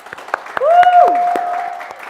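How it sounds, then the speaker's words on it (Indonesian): Scattered studio applause for a singer on a talk show, sparse sharp claps mixed with a bright swooping electronic tone. "Tepuk tangan dulu semuanya"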